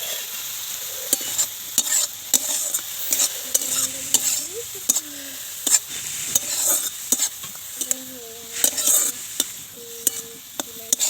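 Malabar spinach and onion leaves fry in a pan with a soft, steady sizzle at close range. Frequent sharp scrapes and clicks from stirring recur throughout, and nobody speaks.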